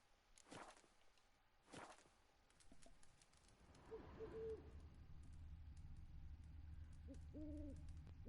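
A snowy owl hoots twice in The Witcher 3: Wild Hunt, with soft low calls in the second half. They sit over steady game ambience, earlier footsteps or hoof clops, and two sharp snaps near the start.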